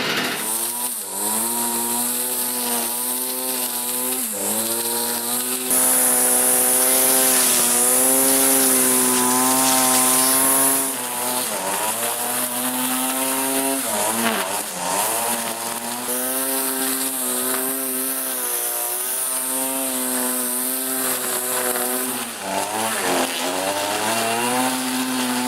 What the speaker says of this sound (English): Now I've got the trimmer back in the shop, and as you saw, it ran good to do the last of the trimming around the yard.